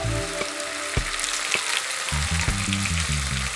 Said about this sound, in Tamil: பச்சை வாசம் போகிற அளவுக்கு நல்லா வதக்கிக்கலாம்